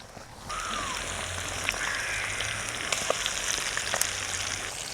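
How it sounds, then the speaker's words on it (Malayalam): A coated whole chicken, KFC-style, is lowered into hot oil in a village kitchen, setting off a sudden steady sizzle with crackles and pops that keeps going to the end. "നമ്മളിനി ഇത് എണ്ണയ്ക്കകത്തോട്ടൊന്ന് ഇട്ട് കൊടുക്കുകയാണ്"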